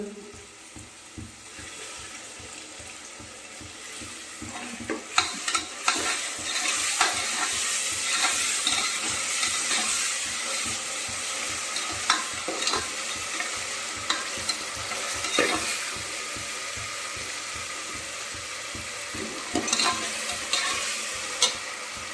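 Tomato, onion and ginger-garlic paste sauté in a pan for veg biryani, a steady close sizzle punctuated by repeated spatula scrapes and stirs throughout, with no talking.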